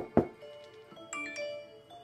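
A short iPhone doorbell alert rings out once, a bright bell-like tone followed by a softer two-note alert, fairly quiet and alone.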